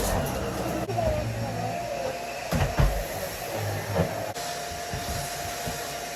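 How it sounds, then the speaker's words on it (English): A household vacuum cleaner runs steadily at close range with a whooshing, broadband whine, its tone dipping and bumping briefly as it is pushed across the floor. "I vacuum this area every day because of the cats and the cat litter"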